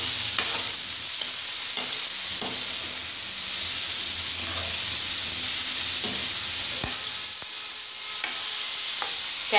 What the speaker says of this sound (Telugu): దీన్ని ఇలాగా ఒక 5 మినిట్స్ ఉంచుదాం, వేయించుదాం.